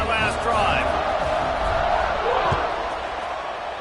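Crowd at an American football game cheering and whooping loudly and steadily through the stretch, with a few sharp shouts rising above the broad roar.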